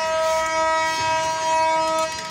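Banglabandha Express pulling away again from Parbatipur Junction, a steady tonal hum with a sustained horn-like note over continuous rail rumble, fairly loud and close, no voices.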